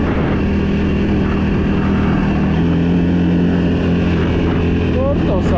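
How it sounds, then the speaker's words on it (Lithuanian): A 500 cc 4x4 ATV engine drones steadily as it drives through a forest, loud and close with wind buffeting the microphone, while someone talks over it and the pitch rises briefly near the end. "dabar to 500 kubų tikrai užtenka, aš net pilną gazą nespaudžiu"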